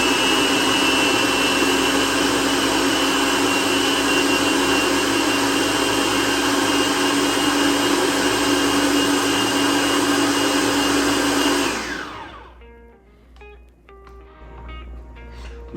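A food processor runs steadily and loudly for about twelve seconds, chopping chicken together with an egg mixture into a paste for copycat McDonald's Chicken McNuggets, then cuts off abruptly, leaving quiet clinks behind.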